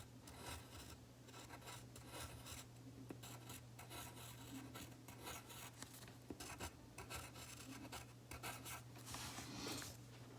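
Pen writing lowercase cursive letters on paper, a close, quiet continuous scratching broken into short strokes, with a low steady hum underneath.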